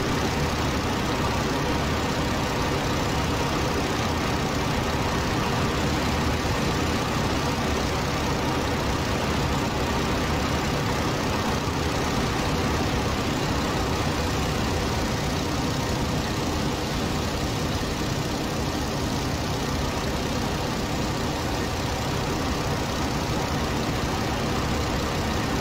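A WWI biplane engine in the Rise of Flight game runs at full throttle, a loud, steady, unbroken drone that holds at the same level from start to finish.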